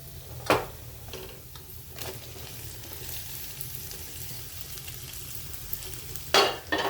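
Vegetables are stirred through spice paste in a pan for a Navratri fasting dish, with a soft, low sizzle under occasional sharp scrapes and clicks of the spoon against the pan, near and fairly quiet.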